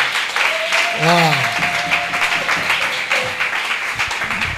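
A church congregation at a prophetic deliverance service in Kinshasa applauds and cheers in a thick, sustained roar, with a voice rising over the crowd and a brief spoken exclamation.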